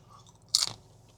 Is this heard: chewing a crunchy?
yes